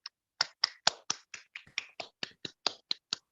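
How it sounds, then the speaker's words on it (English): Conference audience applauding the speakers at a medical and health sciences session: a sparse run of about fifteen sharp, evenly spaced claps, close and distinct, from only a few hands, with no talking. "please give applause to all the speakers"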